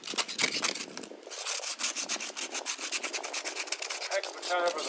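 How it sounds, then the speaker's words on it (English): Rust being scraped off metal parts from an old stove, a steady harsh rasping with repeated rhythmic strokes, close and fairly loud throughout, for building a hobo stove. "When I use the parts off of an old stove, I like to scrape the rust off of it"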